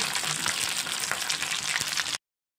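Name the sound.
sardine fish frying in a pan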